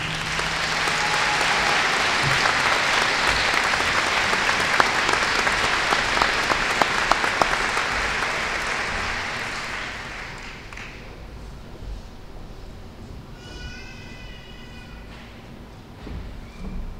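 University commencement crowd applauding doctoral degree recipients, a broad, sustained roar of clapping that fades away after about ten seconds, leaving room murmur and a few faint tones.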